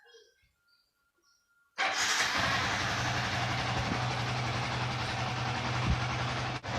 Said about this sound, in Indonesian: Coba kita hidupkan motor dulu.